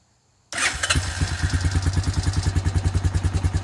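A Honda TRX400 ATV with a rebuilt carburetor and factory jets cranks and fires up at once after a half second of quiet. It then settles into a loud, close, rhythmic thumping idle.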